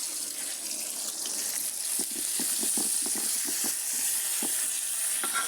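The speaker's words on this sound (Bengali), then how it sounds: "এই মুরগি ভাজার তেলের মধ্যে পেঁয়াজ দিচ্ছি।" Onion being added to hot leftover chicken-frying oil in a wok gives a soft continuous sizzle with a cluster of quick crackles and stirring scrapes in the middle, fairly quiet and with no voices.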